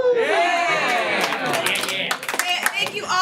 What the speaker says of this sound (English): You got literally thunderous applause.